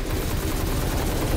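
Gunfire in Destiny 2 during a fight with the Fanatic: a dense, continuous loud barrage of rapid shots filling the whole short moment with no pauses.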